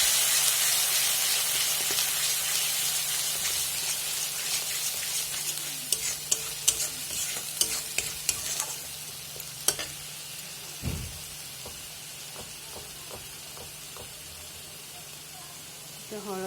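Ground spice masala fries in a pan for a homemade restaurant-style paneer dish, a steady sizzle broken by scattered sharp scrapes and clicks of a spoon stirring, fairly close.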